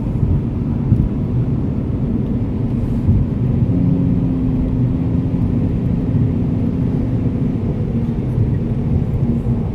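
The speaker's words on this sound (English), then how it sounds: "you might hear that little side wind noise. That's actually from the sunroof." Steady wind rush from an open sunroof in a Lexus GS F on the move, a broad low roar layered with road and cabin rumble that holds even throughout, with no talking.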